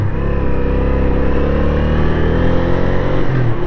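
A Honda Ascot motorcycle engine runs loud and close while riding, a continuous throaty rumble with steady harmonic drone and slight rise in pitch toward the end.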